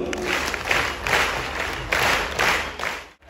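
Audience applause at an inauguration ceremony, a steady burst of clapping from a crowd that swells in waves over about three seconds and fades out abruptly at the end.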